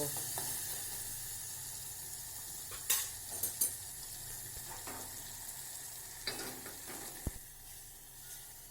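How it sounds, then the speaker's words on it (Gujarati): Hot oil with a spice tempering for dal sizzles steadily at close range, with a few sharp metallic clinks of a spoon against the pot. "દાળની અંદર આપણો સરસ મજાનો વઘાર ઉમેરી દીધો છે"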